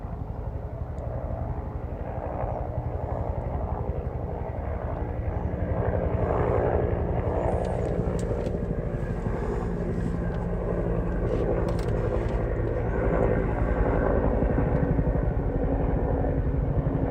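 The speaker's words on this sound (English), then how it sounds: "That red helicopter dropped a lot of water." A red firefighting helicopter flies over a California wildfire, its steady rotor and engine drone loud and continuous throughout, with no voices over it.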